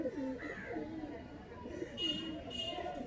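Pigeons of high-flying Kalodana and Andhra breeds coo softly in a loft, low murmuring calls that are faint and close, with soft background chatter.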